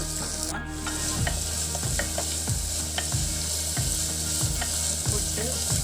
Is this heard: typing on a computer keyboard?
no